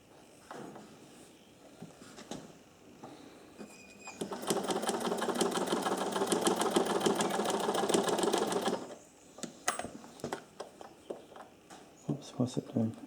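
An old sewing machine running after a thread tensioner adjustment. It gives a fast, steady mechanical whirring chatter for several seconds, close and loud, framed by handling clicks and someone talking before and after.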